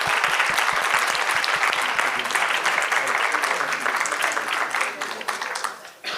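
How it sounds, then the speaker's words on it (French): An audience at a conference on digital sexual scripts bursts into loud, dense applause that holds steady, with a few voices mixed in, before thinning out toward the end. "je vous demande d'applaudir tout le monde."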